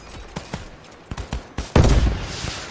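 Gunfire in the Roblox Iron Man simulator game, a few scattered shots early on, then a louder burst of blasts near the end, with no voices over it.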